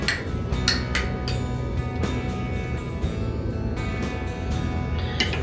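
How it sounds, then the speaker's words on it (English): A spoon stirs honey into a cup of turmeric and ginger tea, tapping the sides in a series of light, close clinks and scrapes over a soft background hiss. "I'm going to just stir in that honey."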